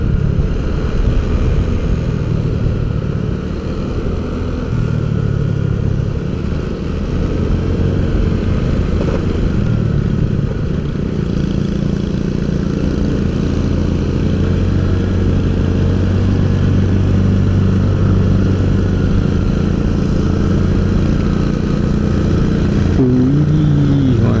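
Honda Vario 125 scooter engine drones steadily while riding on a touring trip, a continuous low rumble mixed with road and wind noise throughout, with no talking.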